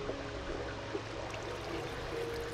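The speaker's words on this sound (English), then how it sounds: "And I hear some water." Flowing water in the Minecraft video game gives a steady, soft rushing trickle that continues through the whole moment with no talking.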